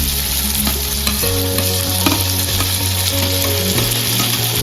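Tomato, sweet corn and capsicum frying with browned onion in a pan for pasta, a loud steady sizzle with stirring scrapes, accompanied by a faint hum of background tones.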